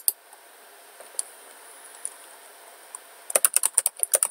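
Typing on a computer keyboard while programming an Android app: a few scattered isolated key clicks, then a quick, close burst of rapid keystrokes at the end over a quiet background hum.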